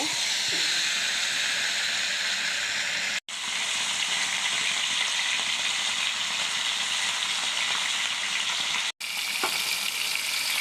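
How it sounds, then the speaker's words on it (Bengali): Spiced fish fries in hot oil with a loud, continuous close-up hiss and sizzle, broken twice by brief silent cuts, with a faint clink near the end. "তো মাছটাকে আমি ভেজে নিব।"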